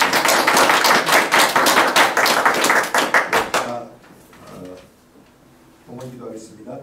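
A church congregation claps in rhythmic unison for several seconds, loud and close, then the applause stops abruptly and a speaker's voice continues over a quieter room.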